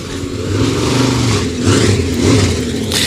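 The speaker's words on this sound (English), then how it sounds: "Trying to keep that engine cooled a little bit." A race car engine revs at a dirt track, Central Missouri Speedway, a steady loud mid-pitched roar that swells and eases slightly throughout, with no voices over it.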